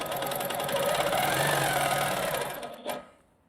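A sewing machine stitching with specialty thread during a tension test, running steadily with a fast mechanical whir for about three seconds, then stopping with a final clunk.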